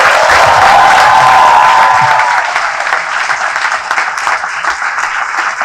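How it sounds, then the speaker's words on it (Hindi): Loud audience applause from a crowd at a live Hindi talk show event, dense and sustained at first, then thinning slightly toward the end with some cheering mixed in. "सर के लिए एक बार जोरदार तालियां।"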